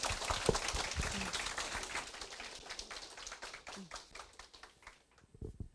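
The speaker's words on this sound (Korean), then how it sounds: "감사의 박수 부탁드립니다." Audience applause at a school admissions briefing. Moderate clapping from a seated crowd that gradually thins and fades, with a few louder nearby claps and taps, ending in near quiet.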